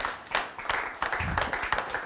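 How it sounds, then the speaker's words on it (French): Audience applause at a national environmental awards ceremony for an overseas-territories sustainability prize: a short burst of dense, close clapping with uneven rhythmic peaks, filling the whole moment without speech. "Merci, on peut l'applaudir, je vous en prie."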